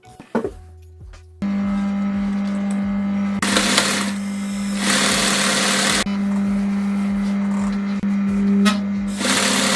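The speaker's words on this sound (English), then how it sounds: "we're back to the sewing machine" A sewing machine runs in long steady bursts stitching pieces onto a men's shirt, humming and rattling rapidly, with brief pauses and clicks between runs.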